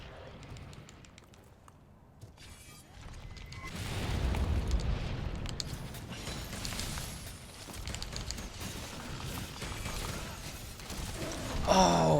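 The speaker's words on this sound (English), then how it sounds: "I have some barrel bombs." A barrel bomb explodes in Monster Hunter World: Iceborne with a heavy boom that swells into a long rolling rumble. Several further blasts follow over a busy game soundscape, and there is no clear speech.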